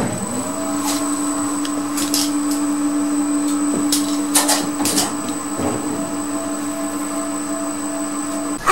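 Lift motor room machinery hums steadily with a sustained tonal whine and low mechanical drone, punctuated by scattered clicks and clunks.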